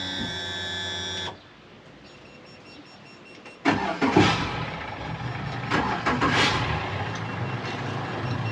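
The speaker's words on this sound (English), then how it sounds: "Let's get the boat all fired up and" A steady tonal hum cuts out, then after a pause a fishing boat engine cranks and catches, settling into a loud rumbling idle.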